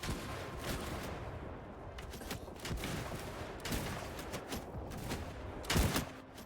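Gunfire from sniping through windows in Mount & Blade 2 Bannerlord, Shokuho mod with Shimazu gun samurai: faint scattered shots over a low battle din, with one louder, closer crack near the end.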